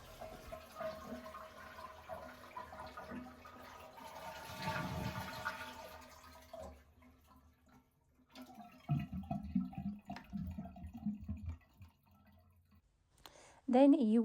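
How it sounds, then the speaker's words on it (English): A household toilet is flushed with the handle held down, so the tank empties fully: a rushing swirl of water, then quieter trickling, dripping and clicks as the tank drains. Talk runs over parts of it. "just go ahead and flush your toilet and hold your handle for a second so that all of the water comes"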